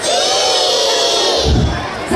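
A large crowd of children at a record-attempt event in Dharmasraya, Sumatra, holds one long, loud sustained shout of the vowel I, swelling slightly toward the end.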